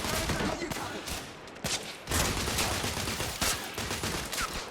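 Heavy gunfire in The Order: 1886, a dense, loud fusillade of overlapping shots with bursts and brief lulls, voices faintly mixed in beneath the shooting.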